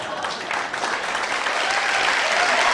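Audience at a comedy show breaking into applause, a dense continuous clapping that holds steady and swells slightly for a few seconds.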